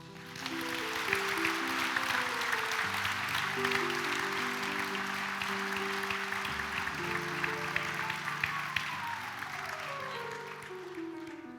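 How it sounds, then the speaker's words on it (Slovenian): An audience applauds at a diploma ceremony for a higher vocational school in Novo mesto, a steady round of many hands clapping that holds for about ten seconds, with a few voices and musical tones faintly beneath it. "Prosim za aplavz."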